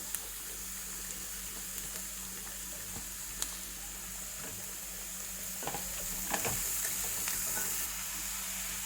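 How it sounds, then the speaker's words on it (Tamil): Carrots and onions frying in a pan, a steady soft sizzle running throughout with occasional scraping stirs, growing a little busier toward the end. "இப்போ நான் கேரட்டையும் கூட போட்டு ஃப்ரை பண்ணி எடுக்கிறேன்."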